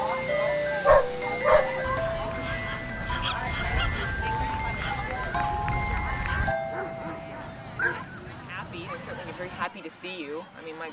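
Brittany dogs bark at a Brittany-only dog show with about 150 dogs gathered, giving scattered barks and yelps in a busy crowd with steady talking nearby.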